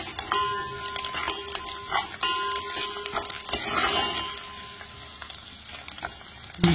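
Phodni tempering sizzles in hot oil for a Maharashtrian dal vange, with steady crackling under occasional spoon-and-pan clinks and stirring, close and moderately loud throughout.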